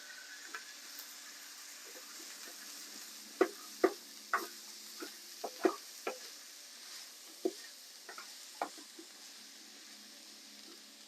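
Tomato fries in a pan with potatoes for a garlic and chilli potato salad, a quiet steady sizzle punctuated by a dozen sharp taps and scrapes of a utensil against the pan.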